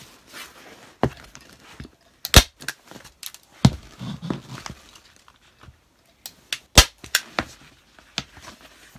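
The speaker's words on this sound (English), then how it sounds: "pull this tight. And staple it every few inches." Staple gun driving staples through vinyl upholstery into an RV dinette cushion board, a series of sharp separate snaps spaced unevenly, with light handling rustle between shots and no talk.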